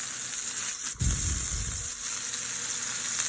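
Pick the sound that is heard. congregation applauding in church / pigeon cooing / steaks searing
steaks searing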